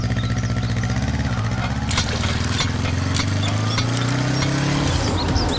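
Motorcycle engine running steadily at close range, a low droning hum that rises slightly in pitch toward the end, with faint scattered knocks over it.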